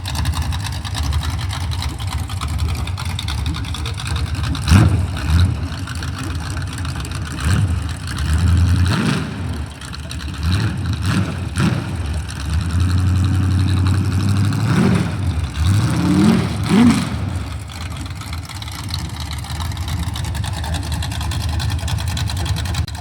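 Small-block Chevy 350 V8 running on open headers with no mufflers, a loud, rough low rumble that idles choppily and swells in several throttle blips, close and continuous throughout.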